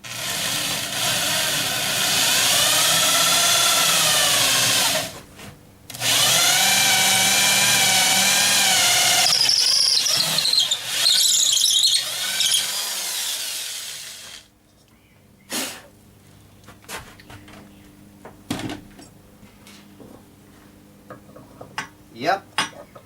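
Drilling a hole through a steel shaft for lathe riser blocks: a loud, sustained whining drill run with a brief pause, then a second long run, followed by quieter scattered clanks and taps of metal handling.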